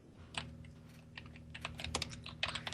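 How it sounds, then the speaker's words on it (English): Quiet, irregular keystrokes tapping on a computer keyboard, close by, with a low steady hum underneath and no talking. "If you hear me typing, that's me trying to write my bullet points"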